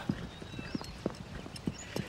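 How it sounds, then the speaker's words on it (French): A horse walks along with an even clip-clop of hooves, about six distinct, moderately close hoofbeats spaced at a steady pace, with no talking. "Quel magnifique cheval."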